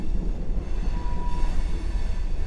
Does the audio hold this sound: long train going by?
yes